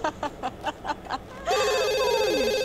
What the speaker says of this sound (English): Not going to worry about the phone right now.